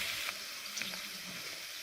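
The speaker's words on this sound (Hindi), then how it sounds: "प्याज को मैंने 3 मिनट जो है वो ऑयल में थोड़ा सा कलर दे दिया।" Chopped onions fry gently in oil over a low flame, giving a soft, continuous sizzle with faint crackles throughout, no voices.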